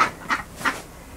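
Small ducks kept inside a greenhouse in winter give a few short quacks, three separate calls spaced across about a second, fairly close and with no talk over them.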